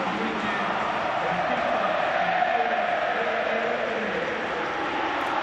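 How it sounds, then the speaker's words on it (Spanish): Stadium crowd at La Bombonera during a Boca versus Velez league match giving Pipa Benedetto an ovation, a dense, sustained roar of many voices filling the stands from a distance, unbroken throughout. "se viene la ovación de la noche para Pipa Benedetto"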